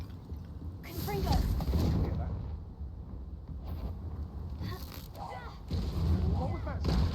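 A Confringo fire spell blasting in Hogwarts Legacy: a few loud, dull booming bursts with a crackling tail, spread over several seconds among game ambience and a voice.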